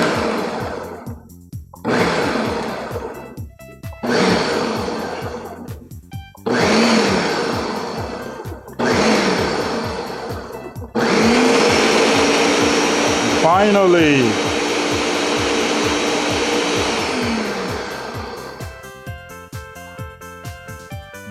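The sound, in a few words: blender pulse blending crab stuffing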